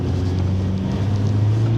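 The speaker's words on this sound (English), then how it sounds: "there's that pull-off noise" New Ford Ranger Limited pickup pulling away, a steady low engine drone with a deep rising hum, loud and close, with wind rushing over it and no talking.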